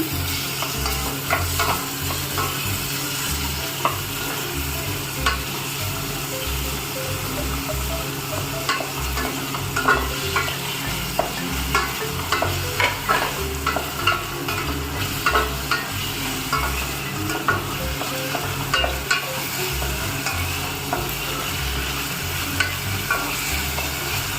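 Chicken cubes fry with chopped onion and garlic in a pan, a sustained loud sizzle broken by frequent scraping and clacking of a spoon stirring through the pieces.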